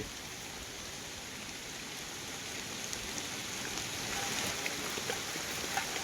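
Steady rain pours down outdoors during a hot-weather jungle picnic, a dense continuous hiss that swells slightly toward the end, with scattered drops ticking close by and no voices.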